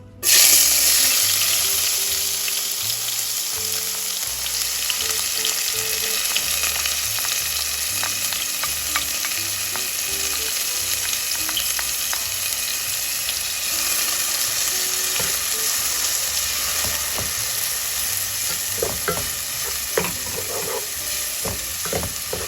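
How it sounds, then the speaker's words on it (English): Peppers and onions fry in olive oil in a pan, starting with a loud burst of sizzle that settles into a constant close crackle, dotted with occasional stirring clicks. "Alright, so I'm gonna add in my peppers and my onions."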